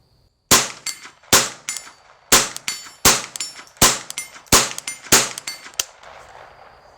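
Eight sharp .22 Long Rifle shots at about 75 yards, each followed by a ringing metallic clang off a steel plate, come at a steady, slightly uneven rhythm before a fading tail of ambient noise.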